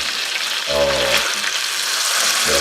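Hamburger steaks with onions mixed in fry in a pan with a constant close sizzle, and a brief low voice passes over it twice.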